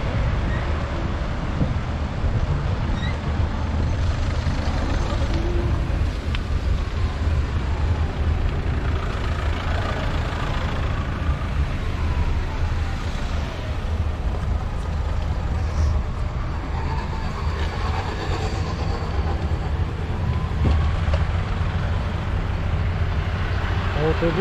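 A bus rumbles in heavy city traffic on a busy boulevard, a steady low engine drone and road noise with wind buffeting the microphone while someone talks throughout.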